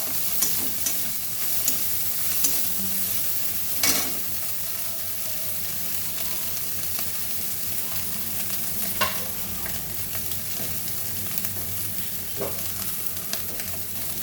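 Fresh whole shrimp fry in hot oil in a pan, a steady close sizzle with occasional sharper pops and spatters running throughout, no voices over it.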